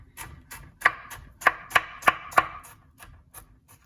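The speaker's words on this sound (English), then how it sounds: "This is called a julienne cut" A knife julienne-cuts vegetables into thin strips on a cutting board, giving about a dozen crisp, close chops at a steady pace, some knocks louder than others, with no talking over them.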